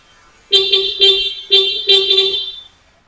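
A Suzuki Jimny's stock horn honks in four short bursts, loud and close, with brief gaps between the blasts before it stops.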